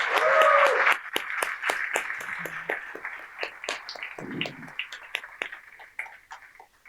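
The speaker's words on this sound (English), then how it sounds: "So I'd like to take this opportunity to give our amazing founders one very big round of applause" An audience at a startup demo day applauds a round of founders' pitches, a sustained patter of clapping that gradually thins and fades, with a brief voice at the start.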